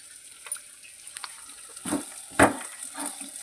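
Food is sautéed and stirred in a pan, giving a soft close sizzle with a few scraping strokes that build into louder wet stirring bursts toward the end. No voices are heard.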